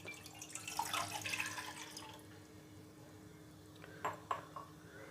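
Water splashes briefly into a bowl for about two seconds, followed by a couple of faint clinks in a quiet room.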